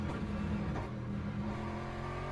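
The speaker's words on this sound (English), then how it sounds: "These GT machinery sounds very, very good." A GT race car engine growls steadily in the Le Mans Ultimate sim racing game at Sebring, a loud, close, sustained drone with no speech.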